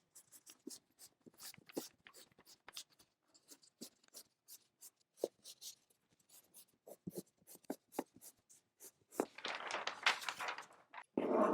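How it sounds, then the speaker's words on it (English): Chalk scratching across fabric in short, uneven strokes, close and fairly quiet, ending in a longer rough rubbing stretch. "So I trace with the chalk."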